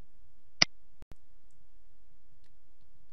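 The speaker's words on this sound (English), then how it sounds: "click the checkbox." A single sharp computer mouse click, close and crisp in an otherwise quiet room, followed by a couple of fainter ticks.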